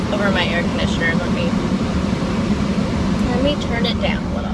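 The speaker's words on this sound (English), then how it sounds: "hopefully you can hear me over my air conditioner." An air conditioner runs at close range in a room during hot weather, a steady low hum that carries on continuously beneath a person's talking.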